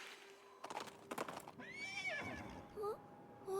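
A horse in the video game Princess Peach: Showtime! gives a loud, close, rising-and-falling whinny, with a few hoof-like thumps before it and brief snorting calls afterward.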